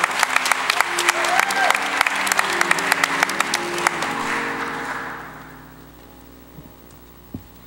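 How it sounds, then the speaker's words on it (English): Audience at a gospel concert applauds with dense, loud clapping and some cheering, then the applause fades away to near quiet, with a brief thump near the end. "Let's give Sister Jeanette Brown a round of applause."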